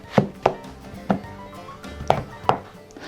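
A knife cuts onion into thin slices on a cutting board, with five sharp, separate chops at an uneven pace, close and clear, with no voices.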